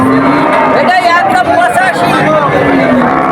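A cow lows at a busy cattle market, a loud drawn-out moo rising over crowd chatter and people talking nearby.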